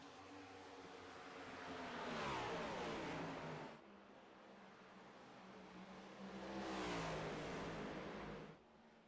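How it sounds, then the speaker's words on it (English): Toyota Camry stock cars race at Phoenix Raceway, engines swelling and fading as they pass in two distinct roaring sweeps, heard from a distance with a steady, low, muffled tone. "Danino takes command of the BSR 156 here at Phoenix Raceway"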